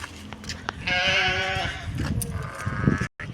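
A sheep lets out a long, wavering bleat up close, followed by a second shorter bleat amid rustling and handling noises.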